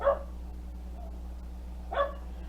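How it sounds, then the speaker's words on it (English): Two short dog barks, one at the start and one about two seconds later, sound from a short distance away against a low steady hum in a kitchen. "My dog is barking."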